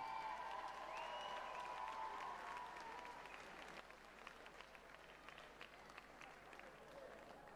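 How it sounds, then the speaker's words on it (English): Ringside crowd applauding after a women's 59kg Muay Thai world title bout, sustained clapping and cheering that fills the hall, easing in volume partway through as voices carry underneath. "A round of applause."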